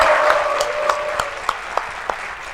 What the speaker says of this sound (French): C'est l'ISPP que je vous demande d'applaudir très fort.